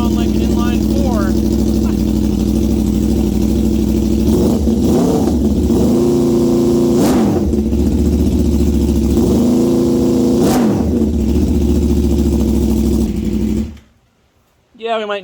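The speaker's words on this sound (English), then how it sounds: "Sure doesn't sound like an inline four." Loud idle from a 2021 Aprilia RSV4 Factory with a Leo Vince Corsa Carbon exhaust, broken by three or four sharp throttle blips that rise and fall, before the engine cuts off and falls silent near the end.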